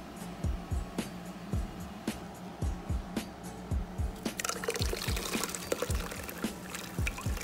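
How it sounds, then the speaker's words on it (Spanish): Blended horchata with cinnamon pieces strained through a colander into water, giving a steady close pour with splashing and soft rhythmic knocks, growing fuller and louder partway through. "Ahora la vamos a agregar a nuestra agua, pero la vamos a pasar por un colador"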